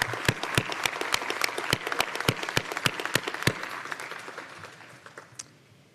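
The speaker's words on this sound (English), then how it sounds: "so let's give her applause" Applause at a university hooding ceremony: a moderate crowd claps with several sharp, distinct claps standing out, then fades away to quiet over the final seconds.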